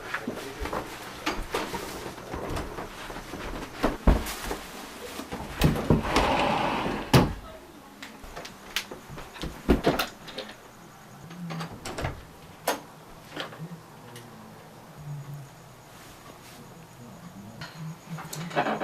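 A house's front door opens at night as people return home: a series of close clicks, knocks and thumps from the latch and door, with scuffing movement between them and quieter stretches.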